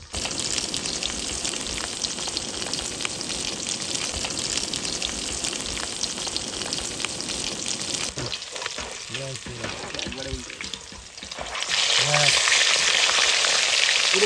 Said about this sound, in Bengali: পুরো করে ভাজা দেবো একদম।